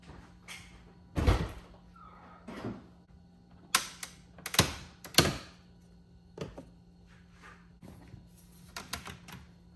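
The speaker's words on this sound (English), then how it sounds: "You just have to pop up the cover from both sides." Plastic clicks, snaps and short slides as a display cover is popped up and fitted on a Tesla Model Y or Model 3 dashboard, scattered sharp knocks over a quiet low hum.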